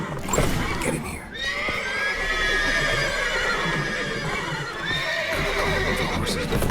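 Horses in The Witcher 3 video game neigh and whinny loudly while hooves clip-clop steadily underneath, with a busy, dense game soundscape throughout.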